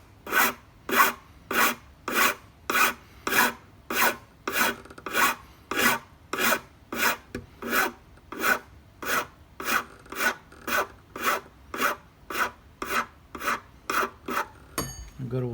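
Hand file rasping across a violin nut during restoration work, about two dozen evenly spaced strokes in a brisk, regular rhythm, close and clear, with no talking.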